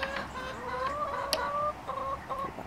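Chickens cluck and murmur inside a chicken house on an allotment, a few close, tonal calls rising and falling in short phrases with brief pauses between.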